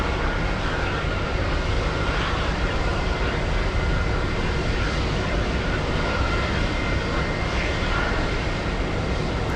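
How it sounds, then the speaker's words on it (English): An Alaska Airlines jet takes off from the longest runway at Boston Logan airport, a loud, continuous broadband engine roar that holds steady throughout, no clear voices. "there goes Alaska Airlines, big one. Taking off on the longest runway."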